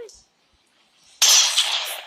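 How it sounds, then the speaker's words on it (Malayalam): Gunshot in the horror video game Granny 3: one sudden loud blast with a hissing, decaying tail, after a short quiet gap. "പൊട്ടിച്ചങ്ങേര് വെടി."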